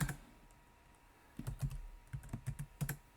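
Short run of quiet, close keystrokes on a computer keyboard while a password is entered, a brief isolated tap and then a quick cluster of clicks over faint background hum.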